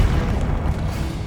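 An Expelliarmus spell cast in the video game Hogwarts Legacy, a loud deep booming burst that rumbles on briefly, with no talk over it.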